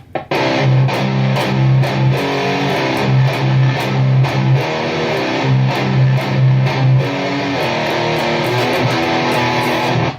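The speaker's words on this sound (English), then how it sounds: "I'm just going to do some hard muted notes." Electric guitar with light distortion playing hard, palm-muted notes in a quick, choppy rhythm from a song, steady and close-miked, no voices.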